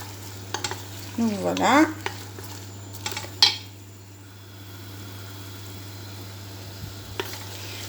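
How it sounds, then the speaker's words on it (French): Two onions frying in olive oil and butter, a faint continuous sizzle under pan and utensil clatter with a few sharp metallic clinks, while a voice speaks briefly. "j'ai mis de l'huile d'olive, du beurre et je fais revenir 2 oignons"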